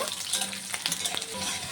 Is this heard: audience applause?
no